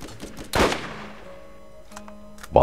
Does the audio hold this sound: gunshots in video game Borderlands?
yes